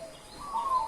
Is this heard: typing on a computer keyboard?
no